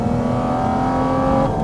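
A Porsche Cayman GT4 RS engine revs hard and close, a loud, sustained high-pitched wail that holds steady before shifting slightly near the end, with no talking.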